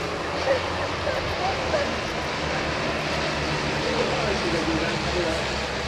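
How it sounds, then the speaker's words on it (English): An aerobatic aircraft with an inverted-flight-capable Rotax 912 engine flies at the 2016 Malta International Airshow, its engine a steady, continuous drone throughout with a commentator's voice over it. "it's got an inverted flight capable version of the Rotax 912 engine"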